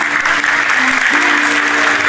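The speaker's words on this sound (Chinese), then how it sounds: "亲友们一定要响起我们最大热情的掌声以及尖叫声" Wedding guests clap to welcome the bride and groom, a dense, steady applause lasting throughout, with a faint tonal hum of music beneath it.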